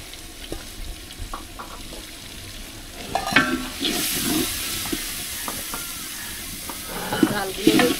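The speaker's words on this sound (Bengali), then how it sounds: "ডালগুলো একটু কষাই নিয়ে তারপরে সবজি দিয়ে দেব" Washed lentils sautéing in oil with spices in a pan for khichuri, stirred: scattered scrapes and taps at first, then a louder hissing sizzle swells midway with steady stirring strokes close by.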